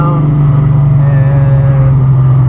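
A car engine holds steady at 3000 RPM with the windows down, a loud, constant low drone with a faint rising whine and wind rush filling the cabin, heard alone without speech.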